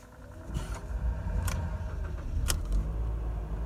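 A car engine is restarted after being shifted into park, on a vehicle with a flashing 4WD warning, overheating and suspected bearing trouble. Low rumbling engine noise runs throughout, with a few sharp clicks or jangles, close and moderately loud.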